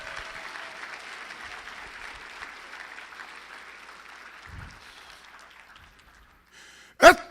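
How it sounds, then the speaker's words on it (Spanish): A church congregation at a Spanish-language sermon applauds, a soft, distant wash of clapping that gradually fades to quiet, followed by a sudden sharp close knock near the end. "le daría un aplauso fuerte al Rey"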